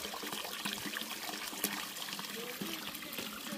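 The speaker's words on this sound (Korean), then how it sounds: "태백산에서 내려오는 진짜 자연스러운 물이 콸콸 쏟아집니다" Natural spring water gushing down from Taebaek mountain, a steady splashing, trickling flow close by that continues without pause and without talk.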